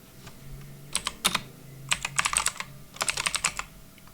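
Close, crisp keystrokes on a computer keyboard typing code, coming in three quick bursts of clicks separated by short pauses, alone with no talk.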